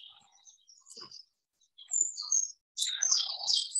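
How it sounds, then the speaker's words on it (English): A willow warbler sings outdoors on a nature reserve moss in spring, with scattered high thin notes followed by a louder descending run of sweet whistled phrases, fairly close and alone. "I think I'm right, this is a willow warbler."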